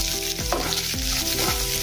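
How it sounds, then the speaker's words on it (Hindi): Onion and curry leaves fry in oil for dal, giving a steady, close sizzle with soft stirring scrapes and no voices. "और कड़ी पत्ता डालेंगे, और थोड़ा सा हम इसमें प्याज डालेंगे।"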